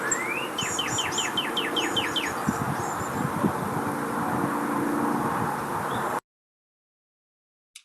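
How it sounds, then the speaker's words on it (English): A northern cardinal sings a run of bright, rapidly repeated slurred whistles, moderately near. Its song sits over steady background traffic rumble and is followed by silence. "This is a popular yard bird, the northern cardinal."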